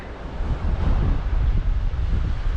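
Strong wind buffets the microphone on a UK beach during sea fishing for cod, a loud, constant low roar with no talking.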